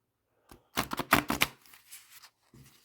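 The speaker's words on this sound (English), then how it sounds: "Trying to shuffle around the camera." A 1986 Mythic Tarot deck is shuffled by hand near the camera, in a few quick riffling bursts of card flicks with brief pauses between them, soft and close.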